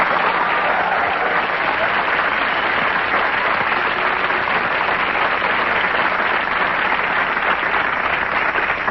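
A television studio audience breaks into steady, dense applause, sustained and full for the whole stretch without letting up, with no voices standing out above the clapping.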